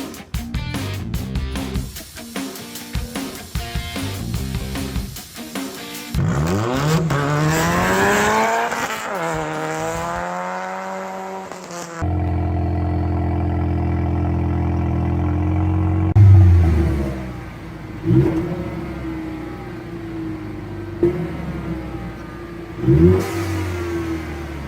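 Ford EcoBoost Mustang with a straight-pipe exhaust and quad tips revving hard, loud and close, the engine climbing and falling through several swells, then settling into a steady idle broken by a few sharp blips of the throttle.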